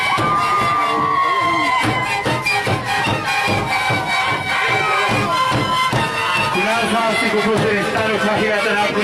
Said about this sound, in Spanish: El aplauso a las autoridades, el aplauso de la concurrencia